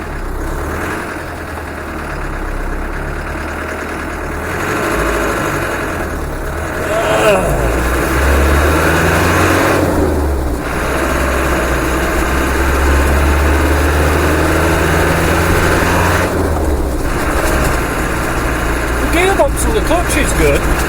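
The engine of a Ghana 110 roars steadily during a road test before engine work, a loud, continuous low drone with shifting pitch as it pulls along. Someone talks over the engine noise.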